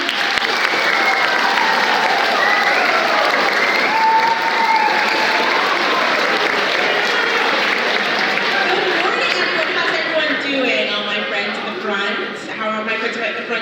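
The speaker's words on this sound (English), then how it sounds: "everyone, please clap your hands for Marianne" Sustained audience applause for Marianne at a Black History Month talk, a loud dense roar of clapping from a large crowd that thins slightly toward the end, with cheering and voices rising through it.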